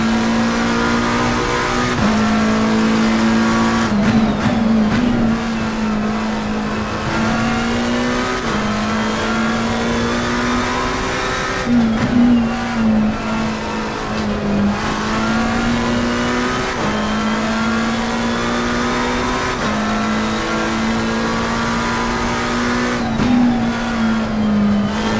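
Porsche race car in Assetto Corsa Competizione at Circuit of the Americas, engine loud and close, holding a steady high drone that climbs through the gears with repeated shift dips and re-accelerations over a continuous lap.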